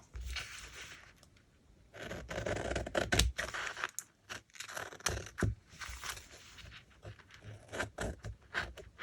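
Tape being cut at home while preparing fabric for printing, close crisp snips and crinkling in uneven bursts, with brief quiet gaps between the cuts.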